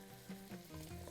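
Curry leaves hit hot oil in a pan already holding cloves, black lemon and cardamom, giving a steady close sizzle and crackle with a few stirring bursts, and no talk.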